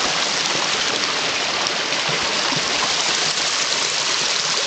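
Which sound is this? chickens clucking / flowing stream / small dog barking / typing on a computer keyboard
flowing stream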